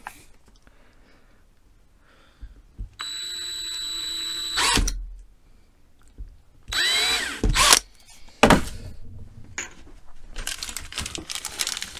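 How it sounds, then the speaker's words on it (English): A power drill bores pilot holes for door hinges during a rear van conversion, with several short whining bursts separated by pauses, handling rustles and clunks close by, and no talking. "Right, a couple more pilot holes."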